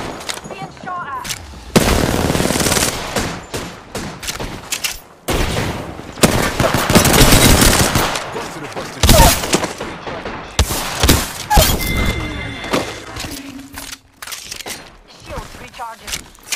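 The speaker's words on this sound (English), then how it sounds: "Enemy run. Being shot at." Gunfire in the video game Apex Legends comes in repeated rapid bursts and single loud shots, close and harsh, separated by brief lulls with game effects between, with no talk.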